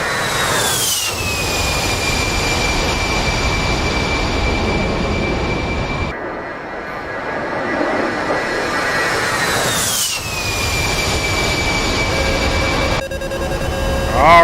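Aircraft climbing out after takeoff in the video game DCS World, a loud steady jet engine roar with a high whine that twice sweeps downward in pitch, then a short cockpit tone near the end.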